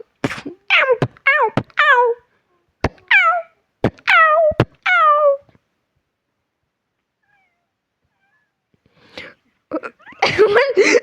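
A kitten in a video game gives about eight high, falling meows in quick succession, then a pause of near silence before a voice and other sounds come in at the end.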